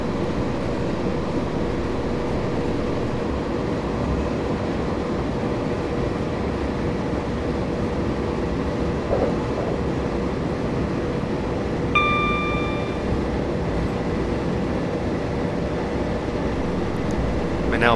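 A train in Train Simulator 2015 accelerates toward 80 mph on the London to Brighton line, giving a steady, even rumble of running noise with a brief ringing tone partway through.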